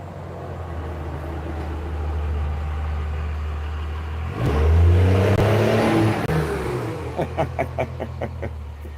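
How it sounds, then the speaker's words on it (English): Loud trucks rumble past, a low engine drone that swells to a heavy roar midway as one passes close, then fades into rattling, chopping bursts toward the end. "some loud trucks kind of coming through the area"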